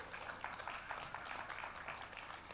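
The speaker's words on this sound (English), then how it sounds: "Let's hear a round of applause for them again." Church congregation applauding during a Sunday service after a baptism, a steady, soft wash of many hands clapping that carries on evenly without a break.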